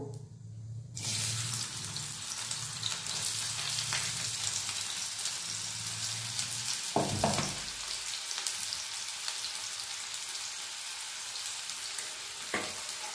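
Chopped onion hits hot oil and bursts into a loud, continuous sizzle that keeps crackling steadily, with a brief clatter partway through.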